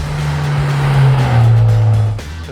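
A 2015 Ford Mustang EcoBoost pulls hard under load, its loud, steady engine drone rising and holding as the car is pushed, with a brief easing off near the end.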